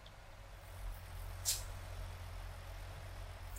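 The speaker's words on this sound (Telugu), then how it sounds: "వావ్, ట్రక్ సౌండ్ బాగుంది కదా." Volvo truck engine in American Truck Simulator: a steady low idling rumble with a brief sharp hiss partway through, no voices.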